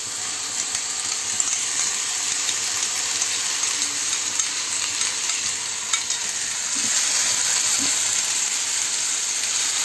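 Carrot paste frying in a pan on a gas stove, a steady loud sizzle with faint stirring scrapes running throughout, growing slightly fuller toward the end.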